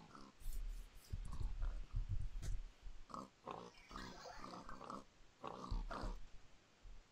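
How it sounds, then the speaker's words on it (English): Pigs spawning in modded Minecraft (FTB) repeatedly oink and grunt in short bursts, several close calls overlapping in an irregular rhythm against the game's background. "pigs are now spawning inside other spawners, and they're dying right there"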